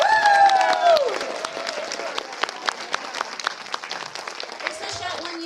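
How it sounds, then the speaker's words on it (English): At a 3D film premiere for the cast and crew of Trailer Park Queen, a crowd claps and cheers after a rising whoop, with scattered hand claps continuing under brief voices and a moderately close, lively room sound. "Let's give them a humongous hand of applause!"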